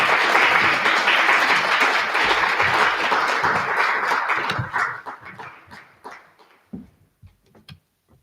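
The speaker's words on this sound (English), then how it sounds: "Please give him an applause." Audience applause at an award ceremony for the 'Mexicanos Distinguidos' recognition, presented by an ambassador: dense clapping for about four and a half seconds, then thinning into scattered, fading claps.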